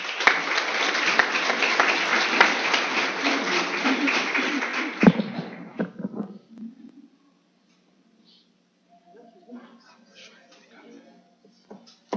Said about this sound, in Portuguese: com os aplausos